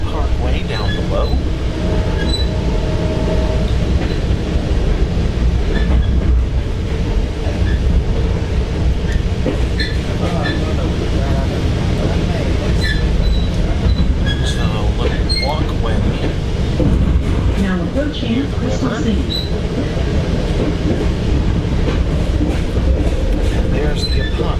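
Train rumbling steadily across the Long Bridge over the Potomac, a continuous loud rolling roar with faint clicking and occasional high squeals throughout.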